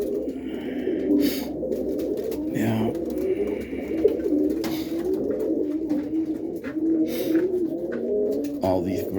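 Racing pigeons coo continuously in a loft on a rainy morning, low throaty murmurs overlapping from several birds nearby, with a brief word spoken and occasional wing or movement noises.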